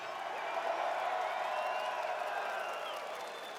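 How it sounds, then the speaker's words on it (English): At a rock concert in Horncastle Arena, Christchurch, the crowd cheers and whoops in a steady, distant wash of voices with faint clapping, fairly quiet and sustained. "Give him a big cheer."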